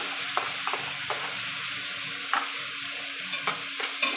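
Ginger, garlic, chili powder and turmeric sizzle in a pan, with soft frying crackle and a few sharp scrapes of stirring, all at a low level.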